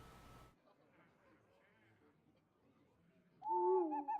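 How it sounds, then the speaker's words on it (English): A synthesized owl screech and hoot sounds as the Ironbeak Owl card is played in the Hearthstone video game, loud and brief after a stretch of quiet game ambience. "Ironbeak Owl is going to silence my Lightspawn."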